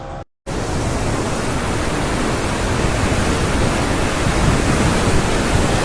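Water rushes at Mukutmanipur dam: after a brief cut, a loud, steady broadband roar of falling and surging water fills the rest of the clip with no talk.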